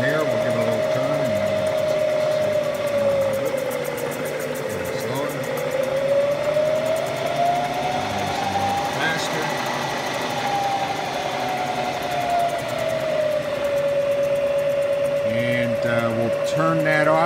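A 1996 Bridgeport EZ-Trak DXII CNC ram type vertical mill running with a steady motor whine whose pitch dips and then rises as the variable speed hand wheel is turned, while someone talks over it.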